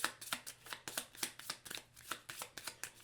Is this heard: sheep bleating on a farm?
no